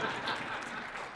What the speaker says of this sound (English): Secondly, I'd like to give myself a round of applause,